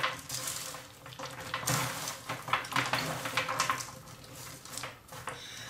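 Nuts and peanuts stirred in a pan for a sweet snack, with repeated scraping and rattling strokes against the metal at a moderate, uneven rhythm and a faint sizzle underneath.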